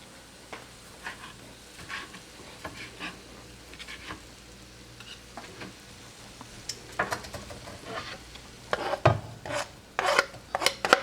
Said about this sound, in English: I'm going to shred the cheese with my box grater, or grate the cheese.